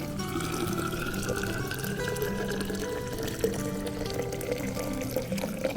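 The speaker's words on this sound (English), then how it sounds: "We are going to pour this water." Water poured from a container without a spout, a quiet, continuous trickling and splashing stream that runs steadily for a few seconds with no talking.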